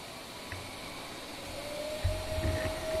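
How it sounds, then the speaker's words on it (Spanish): An electric generator in a machinery lab starts up on a variac. A steady mechanical whir carries a thin tone that rises and holds as the machine spins up. "ahora vamos a proceder a encender el generador a sí mismo con el variac, empezando desde 0 y llegando hasta 120"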